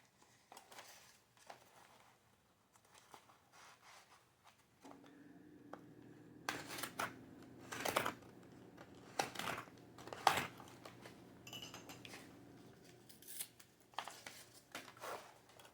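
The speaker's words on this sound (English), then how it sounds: "I'm going to cut it just a little bit more." Material being cut for homemade jewelry storage, quiet close crinkling and snipping with a few sharper clicks and rustles, faint and irregular with a low hum behind.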